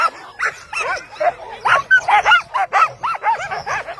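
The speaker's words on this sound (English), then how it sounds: "I hear dogs behind me." Sled dogs at an Arctic dog sled race near the Mackenzie River in Fort McPherson bark, yip and whine in a rapid, excited chorus of overlapping calls, fairly close and loud.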